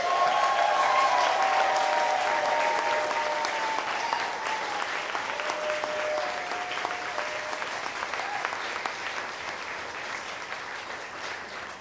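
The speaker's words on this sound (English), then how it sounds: "Let's give another round of applause to all of our 2022 AmeriCorps members." A crowd at a City Year graduation ceremony gives graduating AmeriCorps members long, steady applause. The clapping is continuous and moderately loud, with faint whistles or cheers near the start, and tapers gradually.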